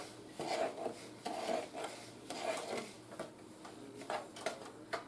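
Soft scraping and tapping as butter is stirred into a shelf-stable cornbread mix in a bowl, a faint, irregular rhythm of utensil strokes close by.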